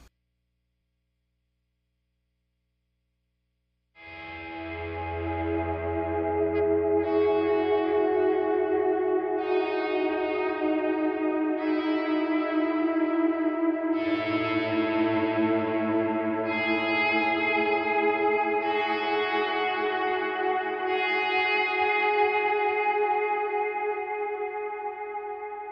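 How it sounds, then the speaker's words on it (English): An electric guitar plays slow volume swells through analog eighth-note and dotted-eighth delays with reverb, creating a continuous, washy sustained pad of overlapping chords that rise in smoothly after a few seconds of silence. "I have both delays on, the analog with the eighth note delay and dotted eighth delay"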